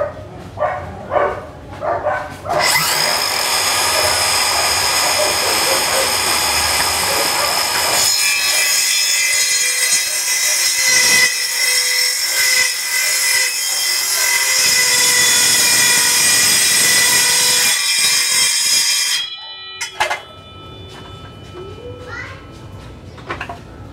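A circular saw fitted with a 12-tooth Bosch Speedline wood blade spins up and cuts through wood. The loud, sustained rasping whine runs for about sixteen seconds before winding down, with brief voices and knocks around the cut.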